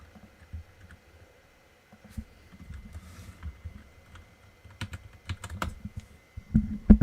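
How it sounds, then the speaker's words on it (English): Close computer keyboard typing comes in scattered bursts of clicks and taps, quiet at first and then busier and louder toward the end, with no talking. "you'll hear my keyboard"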